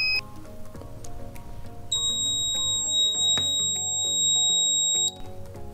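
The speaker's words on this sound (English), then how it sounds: "the buzzer sounds and LED glows" An electronic buzzer in a simple PIR motion-sensor circuit sounds a steady, shrill continuous tone for about three seconds, starting and stopping abruptly over a faint background of other sounds.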